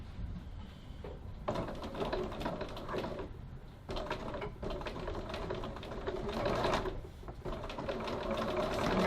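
Sewing machine running a top stitch at 3 mm length near the fabric edge on a pocket pattern project, a steady rapid mechanical hum in several bursts with brief stops, no voices.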